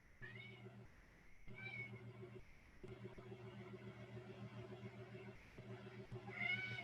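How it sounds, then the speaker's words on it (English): An indoor cat meows repeatedly, wanting to be let out of the room. The cries are fairly faint over a steady low hum. "I'm going to let my cat out. He's stuck in here."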